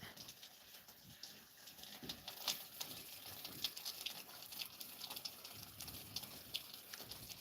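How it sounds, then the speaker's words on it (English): Rain running down a farm downpipe, a faint, continuous patter and trickle with scattered sharper drips and splashes throughout. "You hear the rain coming down the downpipe."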